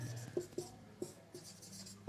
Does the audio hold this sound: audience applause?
no